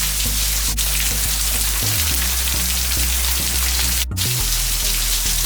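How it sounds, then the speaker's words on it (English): Steady rain falls outside in a dense, even hiss of drops striking surfaces, close and continuous, with a low hum beneath and a couple of brief sharp clicks. "It's raining out."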